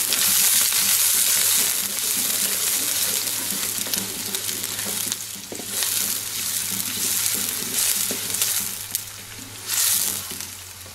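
Onion frying in a pot for kettle goulash soup, a loud steady sizzle with swells and spoon scrapes as it is stirred, heard up close without any voices.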